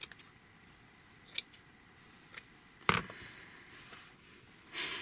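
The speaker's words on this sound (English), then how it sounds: "Let me cut some off and kind of look at it." Scissors cut material for a ring-bound fringy journal, producing a few sharp isolated snips close by, with one louder crisp cut standing out against a quiet background and no talking.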